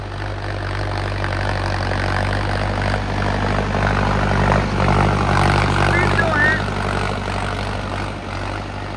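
A 4x4 tractor engine drones at steady revs while driving, a continuous low rumble with someone talking over it.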